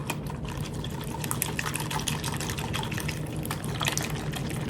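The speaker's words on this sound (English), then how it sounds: "You want your egg to be a little frothy, a little bubbly at the top when you're done whisking it like that." Eggs mixed with cheese are whisked in a bowl, a quick run of soft, wet clicks and sloshing strokes repeating close by at moderate volume.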